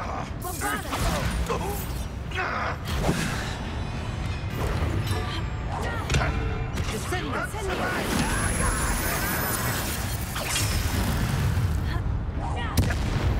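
Confringo explosive spell blasts in the Hogwarts Legacy video game: dense, loud, repeated booming bursts and crackling impacts in continuous battle clamor, with voices underneath.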